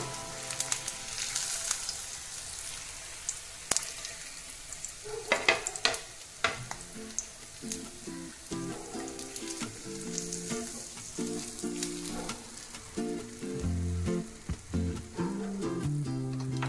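Potato hash brown patties fry in hot oil with a steady, close sizzle and crackle, punctuated by occasional clinks and stirring scrapes, with no talk over it.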